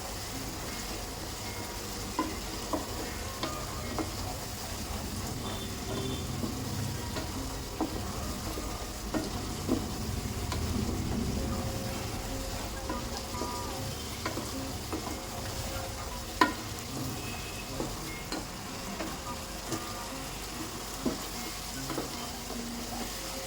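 Turmeric and coriander powder for a Bengali pumpkin curry sauté in a pan, with a continuous sizzle and repeated spatula scrapes and taps through a long stretch, no voices.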